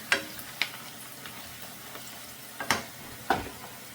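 Onions fry in a pan for tomato chitranna, a quiet background sizzle broken by a few sharp clicks and stirring knocks spaced unevenly, with no voices.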